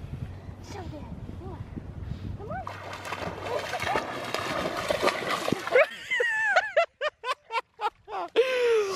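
A golden retriever puppy swimming at the beach splashes and churns the water for several seconds, followed by a run of short, sharp vocal bursts, with people talking in the background.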